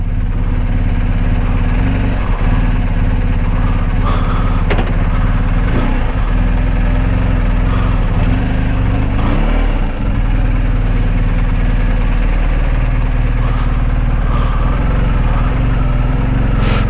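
A touring motorcycle idles steadily and close by, a continuous low engine rumble with no revving, before the rider sets off on a long-distance motovlog trip through England.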